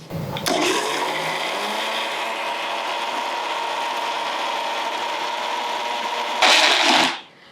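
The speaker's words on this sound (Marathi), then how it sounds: "झाकण लावूयात आणि एकदम हाय स्पीडवर 30 ते 40 सेकंद हे एकसारखं फिरवायचं, थांबायचं नाही" An electric mixer jar whirs steadily at high speed for about six seconds while it blends eggless veg mayonnaise with cold oil. The motor whine stays loud and even, rises briefly, then cuts off.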